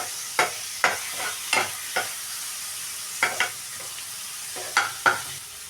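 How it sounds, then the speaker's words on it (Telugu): Chopped tomato and green chillies fry in a pan for a prawn curry while being stirred. About eight distinct scraping strokes come at an uneven pace over a quiet background sizzle, close and clear, with no speech. "చేసిన టమాటా, పచ్చిమిర్చి వేసుకొని బాగా కలుపుకుందాం."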